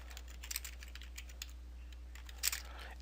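Keys clatter on a computer keyboard in short irregular bursts, quiet and close, with small pauses between clusters of strokes and no voices.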